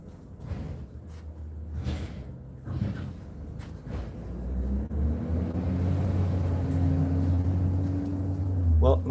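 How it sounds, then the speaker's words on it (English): A garbage truck rumbles close by, its low engine drone building steadily and growing louder toward the end, with people talking over it at first. "That's the garbage truck."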